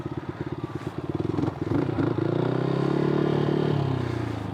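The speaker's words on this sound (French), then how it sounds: "J'ai perdu l'habitude de cette moto" A motorcycle engine putters in rapid pulses, then revs up into a sustained, rising drone, close by with some mechanical clatter.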